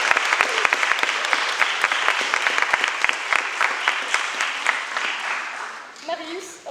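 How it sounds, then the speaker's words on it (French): An audience at the final of a school eloquence and pleading contest claps loudly and steadily for about six seconds. The applause then fades as a voice begins to speak. "c'est bon, on va applaudir."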